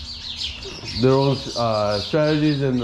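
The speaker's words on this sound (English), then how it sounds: "a lot of birds going on right here. They're having a fight." Birds chirp and squabble outdoors in a busy, high-pitched chatter that runs continuously under a man's nearby speech.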